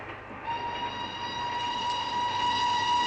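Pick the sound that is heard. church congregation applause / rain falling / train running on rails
train running on rails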